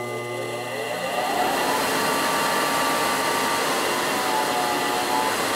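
An all-metal electric fan on a stove heat fan starts up and settles into a steady, fairly loud whirring hum with a whine, running alone without talk.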